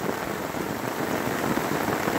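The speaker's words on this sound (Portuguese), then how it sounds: "Vê a chuva, mas tá caindo aí, ó." Heavy rain pours down steadily in the Bahia backcountry, a loud, dense hiss of drops striking surfaces at close range with a low underlying rumble and no voices.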